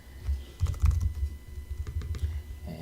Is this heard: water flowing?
no